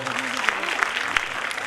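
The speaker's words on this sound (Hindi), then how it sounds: "एक बार उनके लिए जोरदार तालियां हो जाए।" Audience applause for parents standing on stage at a dance academy's annual function, a brief burst of clapping from the crowd with a voice carrying over it.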